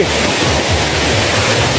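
Wang Kan Lueang waterfall in Lopburi province, Thailand, rushes with a loud, steady, close roar of falling water that fills the whole moment without a break.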